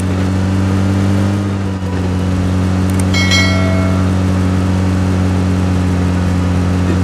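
A car being driven in PUBG Mobile, a loud steady mid-pitched engine drone holding constant throughout, with a brief bright metallic clink partway through and no talk.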